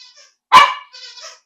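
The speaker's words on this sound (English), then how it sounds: "Part of the dogs barking." Several dogs at home, one sharp, loud bark close by, then fainter, higher yips and whines trailing after it, with no voices.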